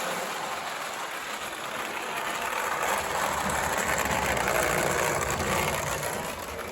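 An O gauge model train locomotive strains to pull a heavy load, its wheels spinning, producing a steady rushing, grinding mechanical roar that swells louder midway and eases slightly at the end.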